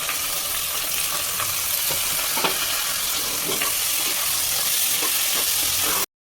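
Onion, green chilli and garlic sizzle and crackle in hot oil for tomato rice, a loud continuous fry with occasional stirring clicks close by.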